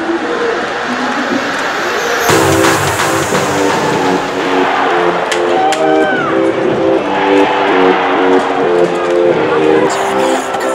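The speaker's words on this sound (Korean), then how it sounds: "관중의 함성으로 터질 듯한 챔피언스 필드" A packed stadium crowd at a Kia Tigers baseball game at Champions Field roars continuously and loudly, with the noise swelling about two seconds in, while tonal cheering chants or music ring over the din.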